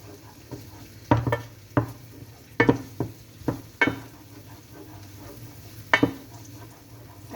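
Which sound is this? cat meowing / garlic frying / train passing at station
garlic frying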